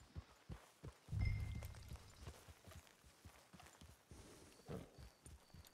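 Horse hooves clip-clopping at a walk in the video game Red Dead Online, a steady rhythmic series of close, distinct hoof taps with a brief low rumble early on.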